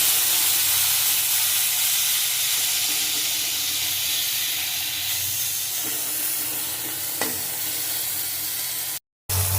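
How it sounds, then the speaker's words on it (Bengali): Broad beans fry in hot oil in a pan with aubergine, giving a steady, loud, close sizzle and hiss that runs without a break, with a few faint stirring clicks and a short drop near the end. "তেল গরম হয়ে গেছে আমি শিমগুলো দিয়ে দেবো শিমগুলো ভেজে দেবো"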